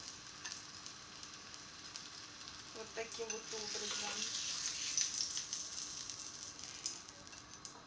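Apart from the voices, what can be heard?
zucchini frying in a pan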